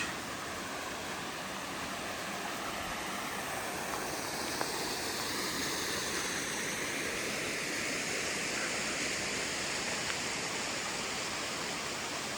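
Waterfall in Glen Howe Park at Wharncliffe Side, Sheffield, a steady broadband rush of falling water that holds even and unbroken throughout, close and full, with no voices.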